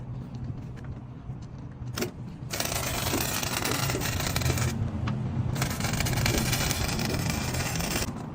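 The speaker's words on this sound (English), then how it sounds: "Now I'm ready to focus on this weld." Arc welding with a loud, continuous broadband crackle in two long bursts, separated by a short gap and a few brief clicks.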